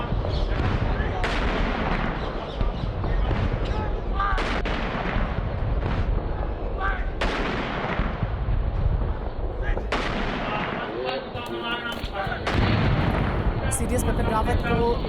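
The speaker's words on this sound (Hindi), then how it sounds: "सीडीएस बिपिन रावत को 17 तोपों की सलामी दी जा रही है" An artillery gun salute is fired at General Bipin Rawat's funeral, a run of heavy, booming blasts a few seconds apart over a loud crowd, with a reporter talking on top.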